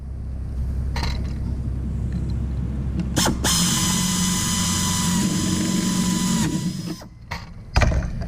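A drill bores holes in aircraft sheet metal, giving a steady high whine for about three seconds after a few short bursts, then stopping, with clicks and handling noises around it.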